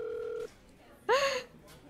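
An iPhone 7 places a call in a cartoon: a steady electronic tone sounds for about half a second, then after a pause a short rising, bright tonal sound follows.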